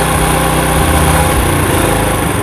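A motorcycle engine idles loud and close while its carburetor idle speed is adjusted, a steady buzzing drone with a fast, even pulse and no speech.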